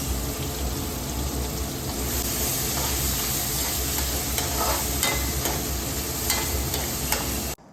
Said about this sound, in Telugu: ఇప్పుడు మనం ముందుగా కట్ చేసి పెట్టుకున్న ఆనియన్స్ వేస్తున్నాం ఆనియన్స్ ఏంటంటే బాగా మగ్గనివ్వండి